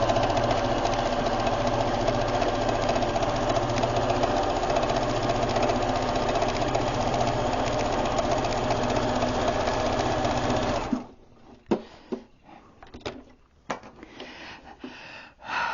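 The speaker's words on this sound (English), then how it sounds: "That's more of a zigzag stitch." Quilt fabric runs through a sewing machine on a zigzag stitch, a loud, steady mechanical whir that lasts about eleven seconds before stopping abruptly. Scattered faint clicks and handling sounds follow.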